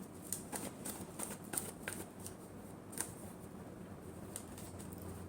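Tarot cards being shuffled by hand, a quiet run of soft riffling flutters and sharp little snaps at an uneven pace, close up with no talking.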